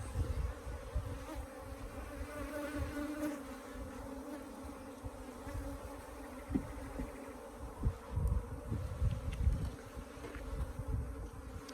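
A hive of honeybees with laying workers gives off a continuous, low buzzing hum, faint and steady throughout, with occasional light bumps and handling noises close by.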